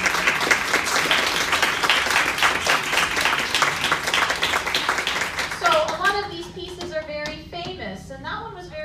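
Sustained applause from a crowd, dense clapping for several seconds that thins out as voices begin talking near the end.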